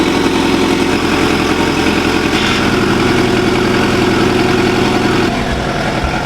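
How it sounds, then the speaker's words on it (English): A Porsche 718 Cayman S engine idles steadily after a cold start, a loud continuous rumble with a slight dip in pitch near the end. "listen to this cold start of a 718 Cayman S."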